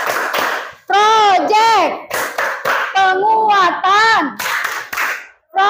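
Children chant and clap together in a rhythmic school clap routine for the P5 Pancasila student profile project, voices singing in sweeping pitched phrases broken by bursts of hand claps, loud and close.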